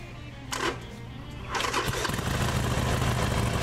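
A 2009 Harley-Davidson Sportster 1200 Low motorcycle engine cranks with a couple of brief bursts, then fires and settles into a loud, steady rumbling run close by.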